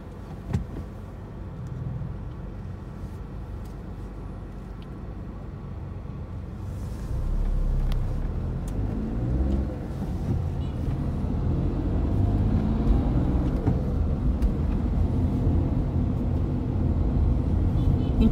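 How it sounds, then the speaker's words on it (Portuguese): Busy city street traffic in Caruaru, Brazil, with many cars and motorcycles, a steady loud rumble of passing engines that swells and continues throughout. "Em todo canto é assim. Muito, muito, muito carro, motos."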